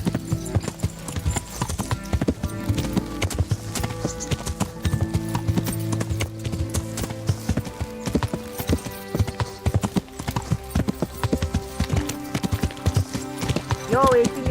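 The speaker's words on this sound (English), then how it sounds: "I like the horses in this game." In a video game, horse hooves clip-clop in a steady rapid rhythm, close and continuous, with a short whinny near the end while a player talks over the sound.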